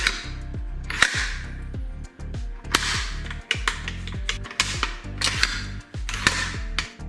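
A Cyma VSR-10 (CM.701C) spring-loaded airsoft sniper rifle, brand new, has its bolt handle tugged repeatedly, giving close, loud mechanical clacks and rattles in a quick irregular rhythm with short pauses, without the usual end-of-travel click.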